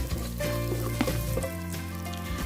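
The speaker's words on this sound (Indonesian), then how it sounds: "kalau minyaknya udah panas, kita tumis bawang putih dulu. Selanjutnya kita masukkan bawang merah" Garlic and shallots sizzling in hot oil, a dense continuous crackle and hiss under a steady background hum, close and fairly loud with occasional stirring scrapes.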